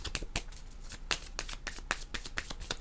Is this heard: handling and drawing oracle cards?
yes